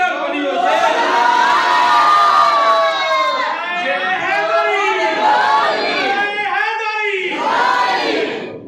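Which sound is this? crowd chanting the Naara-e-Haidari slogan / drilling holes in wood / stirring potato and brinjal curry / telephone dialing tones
crowd chanting the Naara-e-Haidari slogan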